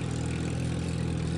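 A tractor engine in a Simpsons video game drones at a steady idle, a constant low hum with no change in pitch over the brief moment, alone without speech.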